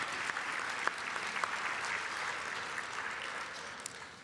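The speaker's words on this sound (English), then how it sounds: "That's worthy of a big applause." An audience at an MLK 2024 program event breaks into steady applause, a dense wash of clapping with a few sharper claps standing out, sustained evenly throughout.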